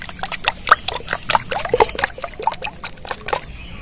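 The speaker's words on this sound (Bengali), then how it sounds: "সামান্য একটু জল দিয়ে দেবো" A small splash of water trickles into beaten eggs seasoned with chopped chilli and salt, a short, close, gurgling pour with a few distinct drips.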